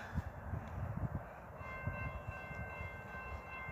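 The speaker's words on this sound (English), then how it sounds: "Here comes Amtrak 91, the Silver Star at Folkston, Georgia. This is southbound headed for Miami." Amtrak 91, the southbound Silver Star passenger train, rolls through Folkston, Georgia, with a low rumble and rhythmic wheel clatter close by, and a steady tone from the crossing signals rising over it partway through.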